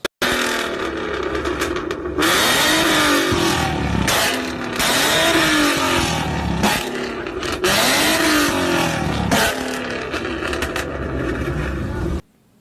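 The engine of a twin-turbo Mustang project car revs repeatedly, loud and close, in long sustained pulls that cycle up and down with short dips between them.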